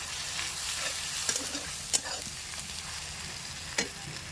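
Ground chilli paste and spices fry with chicken in a pan, a loud continuous sizzle with a few sharp stirring knocks and scrapes over a few seconds.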